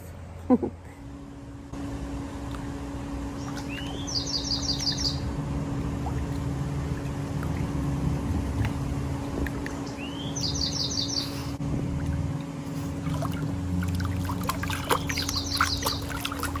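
A crow calls outdoors in three short, bright bursts spaced several seconds apart, heard over steady background noise and a constant low hum.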